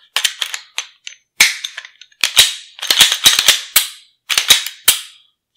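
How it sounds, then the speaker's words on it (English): An IWI Masada pistol being reassembled, with its slide dropped onto the frame: a string of crisp, close metallic clicks and snaps in uneven bursts, with no talking. "We're going to take the slide, drop it on like so."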